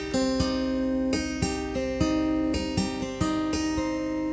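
An acoustic guitar is played fingerstyle, slowly working through hammer-ons and pull-offs, with distinct plucked notes ringing out one after another in an even, unhurried rhythm, close and clear with no talking.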